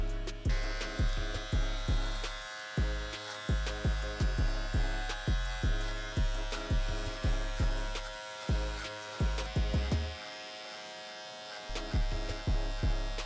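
Electric hair clippers with no guard cutting a mid fade at a barbershop, a steady close buzz broken by repeated short strokes and brief pauses as the blade moves through hair.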